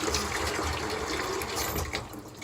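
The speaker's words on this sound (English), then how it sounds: "Gonna do a quick rinse." Water runs steadily from a tap to rinse a double-edge shaving razor at a sink, a continuous close splashing gush with no voices.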